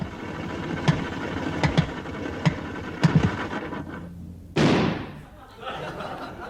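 Comedy sound effect of a car breaking down: a sputtering engine with a series of loud bangs and backfire pops, then a final burst of noise that fades as the motor dies.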